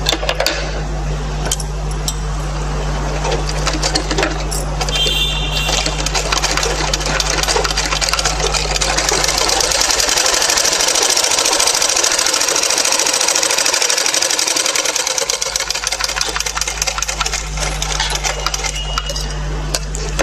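A sewing machine runs continuously for about twenty seconds, stitching the side seams of a baby vest with a loud, close, rapid rattling hum and a low steady motor drone.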